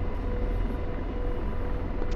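Steady rotor drone of an Apache helicopter in the DCS flight simulator, a continuous low thrumming engine roar heard from inside, unbroken and even throughout.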